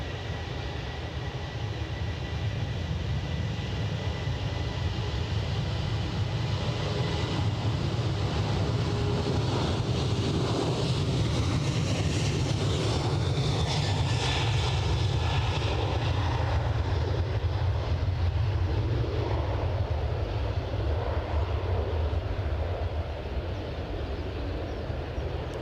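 Ryanair airliner flying past at Edinburgh airport, a loud, steady engine roar that swells in the middle and holds broadband rumble throughout the pass, with no voices.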